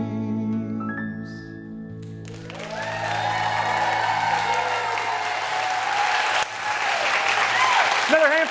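Audience applause swells at a holiday concert show after a song, a sustained dense clapping from a large crowd that carries on for several seconds as the music fades.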